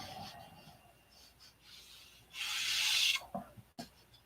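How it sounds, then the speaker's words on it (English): Soft rubbing strokes of a hand sanding block give way to a louder, gritty scrubbing burst lasting under a second, then a few light knocks; close and quiet, no speech. "Not bad for just a sanding block."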